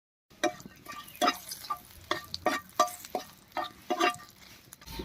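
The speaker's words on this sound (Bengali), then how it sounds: "তেল গরম হয়ে গেছে, তেলের মধ্যে দিয়ে দিচ্ছি 2টো শুকনো লঙ্কা," Dried red chillies and bay leaves frying in hot mustard oil in a wok, with a soft continuous sizzle broken by repeated scraping stirs at an uneven rhythm, close and fairly quiet.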